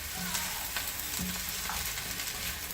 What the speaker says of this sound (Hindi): बस आपने इसको 1-2 मिनट के लिए तेज आंच पे फ्राई करना है।